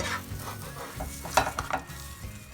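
Fruit-topped American-style pancake cooking in a pan after being flipped, giving a steady low sizzle with a few soft clinks and scrapes from a utensil against the pan.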